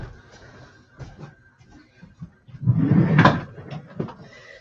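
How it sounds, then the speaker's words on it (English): A bedroom door being pushed shut indoors, giving a single muffled thud with a brief rattle of the latch, close to the microphone after a few soft handling knocks. "and closing the door"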